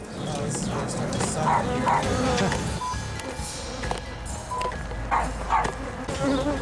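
A swarm of bees buzzes close and steady in an infested area, their drone dense and continuous, while a voice speaks intermittently over it.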